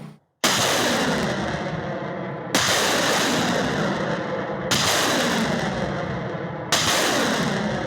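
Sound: Grad rocket launcher salvo firing

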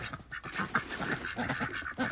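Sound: ducks quacking on a farm

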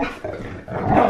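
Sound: dogs barking and growling while playing indoors

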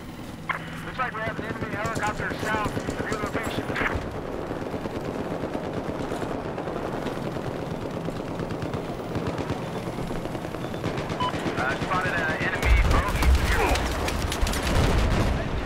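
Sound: gunfire in video game Battlefield 4

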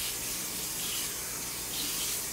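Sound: water running from a tap

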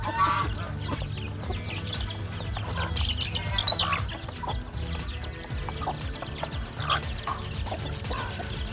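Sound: chickens clucking on a home farm, with a goose nearby

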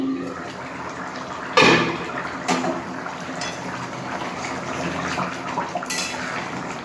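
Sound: opening the lid of a pot of bottle gourd and egg curry

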